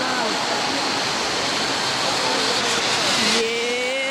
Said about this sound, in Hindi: नीचे जो है ना पूरी ऊपर से बहती हुई रिवर का पानी है।